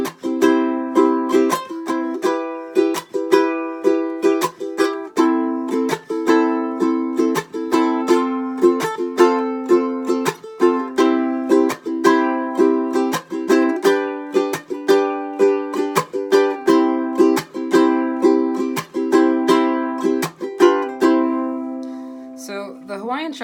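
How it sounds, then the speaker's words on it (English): A ukulele plays a Hawaiian chunk strum, a steady rhythmic pattern of bright chords cut by sharp percussive muted chunks, close and clear throughout with no talking until the final strum rings out. "So I'd like to talk a little bit about the Hawaiian chunk strum."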